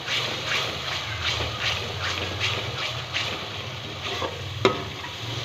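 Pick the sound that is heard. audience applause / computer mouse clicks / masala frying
masala frying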